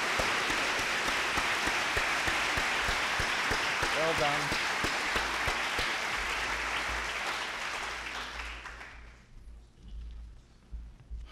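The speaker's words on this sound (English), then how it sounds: "please give the award winners another round of applause" Sustained audience applause for award winners at a closing plenary session of an international conference in a war memorial venue, loud and dense for about eight seconds before fading out, with a brief spoken word of praise mixed in.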